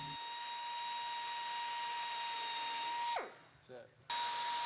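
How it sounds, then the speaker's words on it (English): A power drill with a 1/4 inch bit bores holes in the inner boom of a Jarraff tree-trimming machine for a poppet hose attachment, whining steadily and loudly before spinning down, pausing briefly, then starting up again. "Using a 1/4 inch drill bit, drill holes for the poppet hose attachment."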